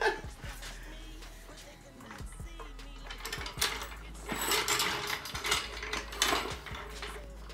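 A car jack is ratcheted up under a 2016-or-later Honda Civic, giving repeated metallic clicks in an irregular rhythm, close by, with faint background noise.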